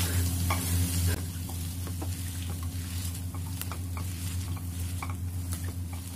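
Potato and pea samosa filling stirred and mashed in a pan, with a steady close sizzle and repeated soft scraping and patting strokes, no talk.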